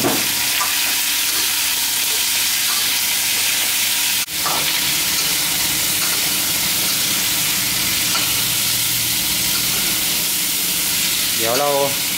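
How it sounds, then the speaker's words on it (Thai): Pumpkin and garlic stir-frying in a hot pan give a steady, close sizzle that runs through the whole stretch, with a brief dip partway and a few scraping stirs near the end. "เดี๋ยวเราผัดสักแป๊บหนึ่งเราจะใส่น้ำเข้าไปนะครับเพราะว่าต้องเอาให้ฟักทองนิ่มนะฮะ"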